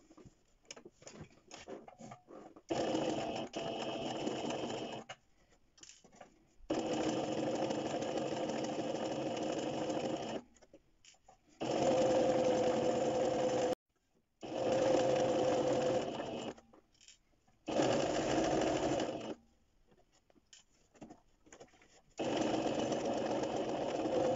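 A sewing machine runs in several bursts of a few seconds each while it stitches straight-stitch seams on a duckbill face mask. The whir is steady and fairly close, with short quiet pauses between the runs.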